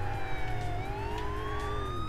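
Wailing police siren from a Grand Theft Auto IV street scene, a steady rising and falling tone that carries through the whole stretch over a low continuous rumble of traffic and engine noise.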